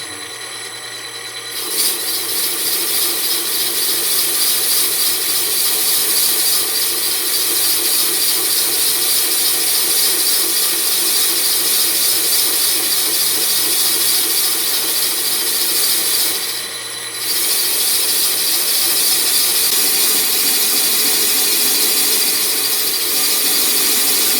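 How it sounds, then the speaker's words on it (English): A lathe skims a 5-inch gauge steam locomotive tender wheel, producing a loud, steady high-pitched cutting squeal and hum that runs continuously, with one short dip partway through before resuming. "I'm going to skim them all to the same dimension."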